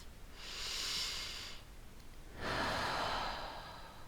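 Slow, deep breathing while lying down during a gentle yoga session: a long, soft inhale, a short pause, then an equally long, airy exhale, close and clear against a quiet background.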